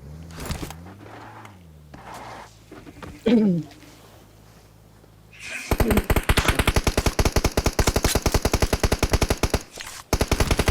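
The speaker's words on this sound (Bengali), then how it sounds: "আমাদের ফায়ার দিতেছে নুব বস" Gunfire in the mobile game PUBG Mobile starts with quieter game sounds and brief noises, then breaks into a loud, rapid burst of automatic fire lasting several seconds, close and dominant.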